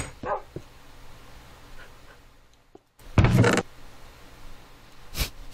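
A dog in the video game Minecraft barks a few times with short yips and whimpers, the loudest burst near the middle and one more sharp bark at the end.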